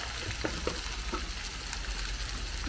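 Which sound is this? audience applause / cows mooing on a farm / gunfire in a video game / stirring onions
stirring onions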